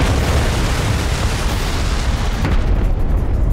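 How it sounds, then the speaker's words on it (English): A torpedo hit explosion in a submarine warfare action movie comes across as a loud, sustained roaring boom and rumble that fills the sound before easing slightly near the end, with no talking. "Second torpedo a hit, sir."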